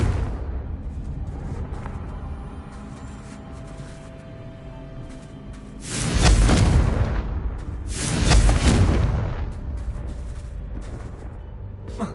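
Spells including Bombarda and Confringo go off in the video game Hogwarts Legacy: two loud, rumbling explosive blasts a couple of seconds apart follow a stretch of lower background game noise, with no talking.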